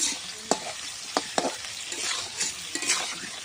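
Food frying in a pan while being stirred, a continuous sizzle broken by several sharp scrapes and clinks of a utensil against the pan.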